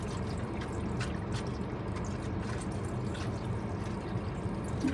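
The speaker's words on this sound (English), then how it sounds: "I'm going to add this to my water." Flavoring poured into a cup of iced water, a steady close trickle running alone for several seconds with faint liquid splashing and no voices.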